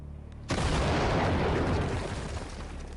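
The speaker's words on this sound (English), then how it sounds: "The cannon blasts with unbelievable power." A cannon fires a stone ball at a wall in a quarry, one sudden heavy blast breaking out of near quiet, followed by a loud broadband roar and rumble that slowly decays.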